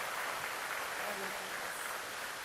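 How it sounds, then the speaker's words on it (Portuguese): Congregation applause during a church service, a soft, continuous wash of clapping heard at a distance and fairly faint throughout. "Aplauda a Jesus, glória a Deus."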